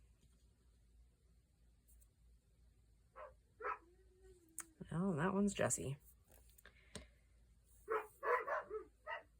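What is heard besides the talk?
dogs barking outside window behind door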